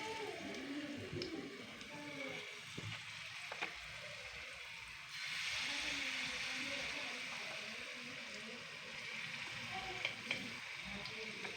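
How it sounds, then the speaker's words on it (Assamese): Spoonfuls of malpua batter fry in hot oil in a kadai, a continuous bubbling sizzle that swells louder midway, close and steady with faint background sounds. "তেলখিনি গৰম হৈ গ'ল। এতিয়া মই এইখিনি অলপ অলপকৈ কেৰাহীত দিম।"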